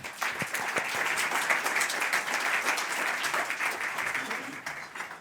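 An audience at a French conference applauds as two experts, Luc Abbadie and Maxime, are called up for a round-table panel: dense, continuous clapping from many hands, fairly close and even throughout.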